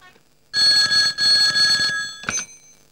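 A telephone bell rings loudly in a Telugu comedy film scene. Two long ringing bursts with a short gap between them are followed by a brief final ring, with no talking.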